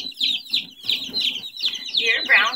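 Baby chicks giving repeated high, rapid peeping chirps close up, several birds overlapping in quick bursts, with soft low rustling underneath.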